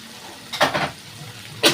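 Spice paste for a spicy boal fish curry stirred and frying in a pan, with a steady soft sizzle and two or three brief scraping strokes of the spoon close by.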